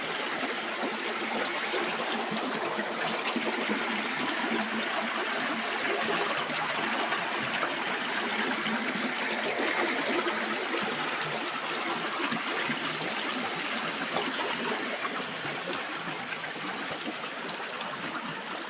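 Spring water flowing out of the ground in a forest in Aceh Tamiang: a steady, unbroken trickling and rushing stream, close and even throughout, with no voices.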